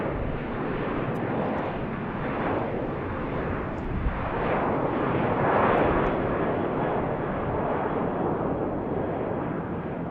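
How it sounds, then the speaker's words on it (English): A Southwest airliner departs from BWI airport, a sustained jet engine roar that swells in the middle and fades slightly, heard alone at moderate distance. "Here's our next Southwest departure."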